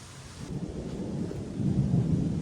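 A thunderstorm rolls in outdoors near a work site, with a steady wash of rain and low rumbling thunder that swells louder toward the end, no voices.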